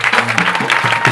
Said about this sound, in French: Ok, on acclame pour eux.